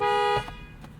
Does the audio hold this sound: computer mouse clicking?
no